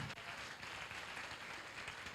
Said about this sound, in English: Let's give them one more round of applause as they walk off the stage.